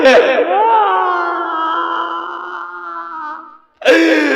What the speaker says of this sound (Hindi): आज मेरे दरबार में रोने की आवाज